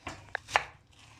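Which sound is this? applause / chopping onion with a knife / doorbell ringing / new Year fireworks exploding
chopping onion with a knife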